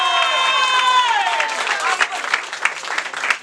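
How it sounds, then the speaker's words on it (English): Audience applause at a New Year and Christmas function, a dense crowd clapping that carries on under a fading sung or sustained tone at the start. "So give a huge round of applause."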